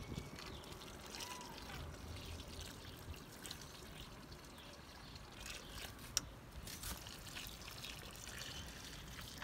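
Collected rainwater poured from a container onto potatoes planted in buckets, a soft continuous trickling and splashing held steady and fairly close throughout, with no talk over it.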